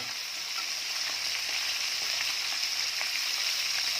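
Fish from the Chi river frying in hot oil in a pan, a dense, even sizzle holding steady and close for the whole stretch.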